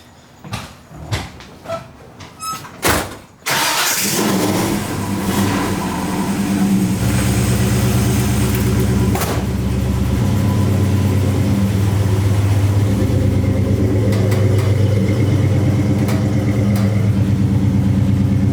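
1969 Mercury Cougar with a swapped Fox Body 5-speed manual: a few door and latch clunks, then the engine starts and runs with a loud, steady rumble that deepens as the car pulls away and drives.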